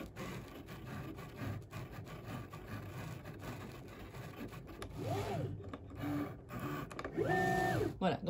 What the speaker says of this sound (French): elle a calibré en fonction des petits traits qu'on a là. Et elle fait sa découpe tranquille.